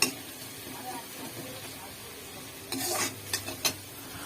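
Onions frying in a pan for a home-cooked potato, pointed gourd and prawn curry give a low, steady sizzle, with a few brief stirring scrapes and clinks of the utensil against the pan near the end; no one speaks.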